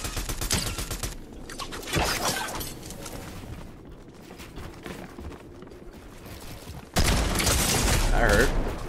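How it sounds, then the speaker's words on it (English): Gunfire in the video game Fortnite during a boss fight, with bursts of shots and impacts scattered through the mix and a loud crash near the end, mixed with game noise. "Shooting from this side."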